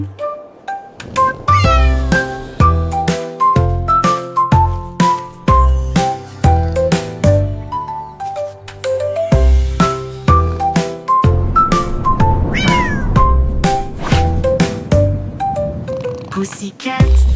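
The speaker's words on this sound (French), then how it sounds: "un chat royal de rêve au clair de lune" A cartoon cat meows again and again in a playful melodic pattern, the calls rising and falling over a tinkling music-box style tune in a children's nursery rhyme.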